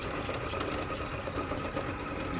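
Electric motor of an RC rock crawler on MIX Racing 1.9-inch off-road tires, a steady close whirring drone under load that holds without pause.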